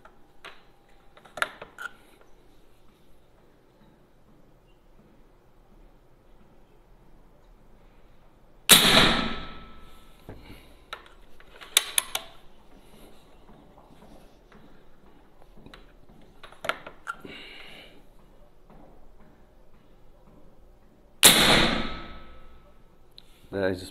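PCP air rifle fitted with a Chinese 9mm regulator valve, charged to 160 bar, fired in a test: two loud, sharp discharges far apart, plus several smaller clicks and taps in an otherwise quiet room.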